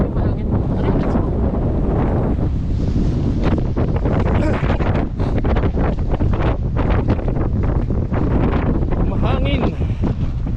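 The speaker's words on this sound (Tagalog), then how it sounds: "medyo mahangin." Strong gusty wind buffets the microphone in loud, uneven bursts throughout, with a roaring, rumbling low end.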